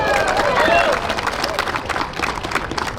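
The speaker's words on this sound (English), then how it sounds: "So give them a round of applause there." A crowd at an outdoor candlelight vigil for missing and murdered Indigenous people at the California State Capitol in Sacramento applauds Yurok brush dancers, a dense burst of clapping and crowd noise that begins loud and then thins out slightly.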